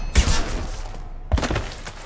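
Gunfire in Mass Effect 2: two loud bursts of shots with a sharp thumping attack, each ringing out for about a second with a short gap between, no talk.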